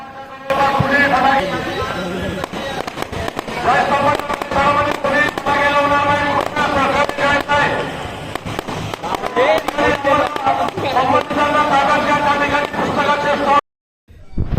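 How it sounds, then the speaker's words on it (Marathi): Firecrackers pop and crackle repeatedly, loud and close, under steady talking and other background sound for most of the stretch, amid a huge crowd gathered at Bhima Koregaon at midnight on January 1. "फटाके वाजायला लागलेत बघू शकता"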